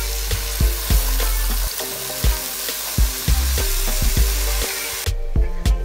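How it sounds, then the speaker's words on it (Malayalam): Breadfruit stir fry with masala being mixed in a pan, loud repeated scraping and knocking of a spoon against the metal over a continuous sizzle, alone and close, ending in a sudden quieter moment. "ഇനി ഇതിനെ നന്നായിട്ടൊന്ന് ഇളക്കി യോജിപ്പിക്കാം"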